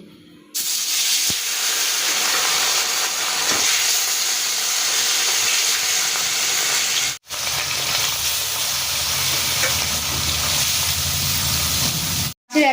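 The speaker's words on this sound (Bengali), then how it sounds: "মাছগুলো এবার আমি ভেজে নিচ্ছি" Pieces of katla fish fry in hot oil in a wok, giving a loud, dense, continuous sizzle and hiss up close, broken by two brief gaps, with no talking.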